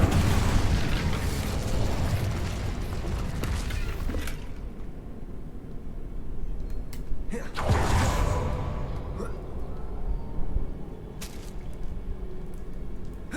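An Incendio fire spell cast in Hogwarts Legacy: two loud whooshing bursts of flame, one at the start and another midway, each fading into a softer crackling tail.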